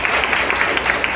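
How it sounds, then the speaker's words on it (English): Dense applause for students at a Deeksha Vedantu results event, a steady clatter of many hands clapping fairly close. "A big round of applause for everyone."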